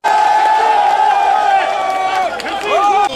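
A loud crowd of motorcycle taxi drivers in Lom-et-Djérem erupts in sustained shouting and cheering, voices close and overlapping, with one call rising near the end.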